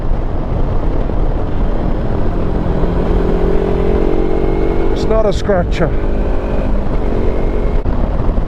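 A Sinnis Terrain 380 adventure motorcycle engine drones steadily at high revs, around 5,500, under constant wind roar, with a brief voice speaking partway through.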